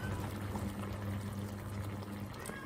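15% cream poured into a pot, a short soft steady pouring trickle heard close up and faint, with no voices.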